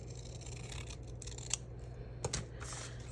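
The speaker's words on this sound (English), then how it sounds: "I'm gonna grab my bigger scissors so that I can hopefully trim it straight-ish" Large scissors cut through vellum with a few crisp snips, sharp and close, separated by short gaps over a quiet background hum.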